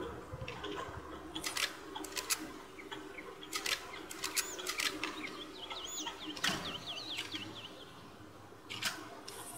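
Birds in the Far Cry video game chirp and trill at a moderate distance over an outdoor ambient bed, with several sharp flapping bursts scattered throughout.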